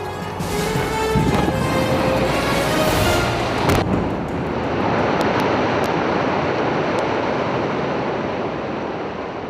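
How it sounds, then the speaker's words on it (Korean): Blasted landscape stones from a large Onyang stone quarry crash and pour down like a waterfall, a loud sustained roaring rumble that builds over several seconds and then settles into a steady rushing wash of debris. "엄청난 위력으로 폭포처럼 쏟아져 내리는 조경석."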